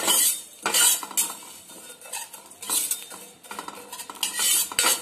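Spices sizzle lightly in a pan over low heat while a metal spoon stirs and scrapes in repeated bursts, clinking against the pan up close.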